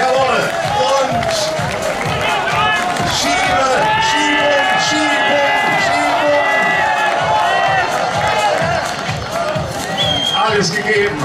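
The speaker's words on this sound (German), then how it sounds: "Ein Riesenapplaus" A lively crowd at a German local club festival cheers and whoops over an excited announcer's voice, with a constant roar of noise throughout and rhythmic thumping underneath.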